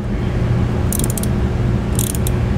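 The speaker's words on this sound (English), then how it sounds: "and we'll use a 10 millimeter socket" A ratchet turns a 10 mm socket, tightening a clamp while fitting a Roadmaster battery charge line kit on a motorhome: two short bursts of rapid clicking, one near the middle and one near the end, over a steady low background hum.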